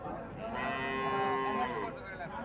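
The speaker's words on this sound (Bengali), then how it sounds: "এখানে আরেকটা গাভি দেখা যাইতেছে" A cow moos in long, drawn-out calls at a busy cattle market in Comilla, with a steady crowd murmur underneath.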